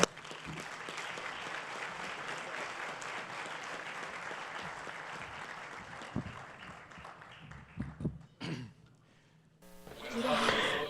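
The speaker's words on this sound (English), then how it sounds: "would you please give a round of applause to Ambassador Mattanya Cohen." Sustained applause from a crowd at a diplomatic conference session fills the room for several seconds, tapering off with a few scattered claps before a voice begins.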